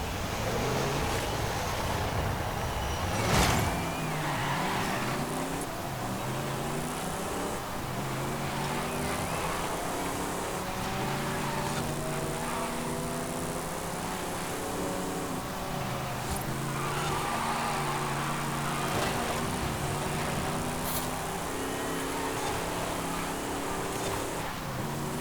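A Nissan Safari Turbo races in Forza Horizon 5, its engine droning continuously with repeated rising and falling revs through gear changes, steady and moderately loud with wind and road noise around it.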